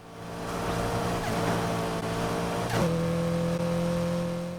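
A Mitsubishi Evo X racing in Need for Speed Heat holds a steady high engine drone, then a single quick gear change drops the pitch before the engine pulls on.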